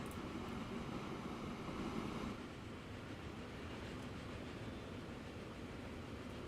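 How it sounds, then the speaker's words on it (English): A steady rolling rumble from French steam trains running fast in a railway video game, broad and continuous, slightly louder for the first couple of seconds and then settling into an even drone with no voices. "That sound, that's the sound of like French steam trains going fast"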